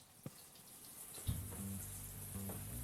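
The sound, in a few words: shower running water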